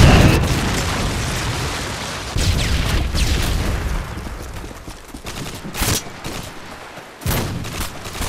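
A stun grenade going off in Call of Duty Modern Warfare 2 multiplayer, one loud bursting blast among repeated booms and rapid gunfire that rise and fall through a chaotic firefight.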